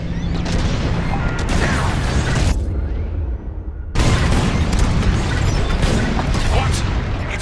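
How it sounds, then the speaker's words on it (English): Bombs exploding during a bombing raid in the Star Wars: Squadrons space combat game, a continuous heavy roar of blasts and rumble that drops briefly to a quieter hum before surging back loud. "On my mark, it's bombs away."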